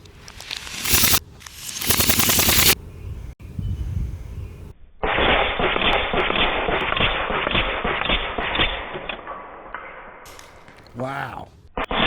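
A Western Airgun Mordax PCP pistol carbine fires rapid double-tap shots in a semi-auto or full-auto burst, sharp close pops breaking through near-constant excited talking and sustained noisy stretches.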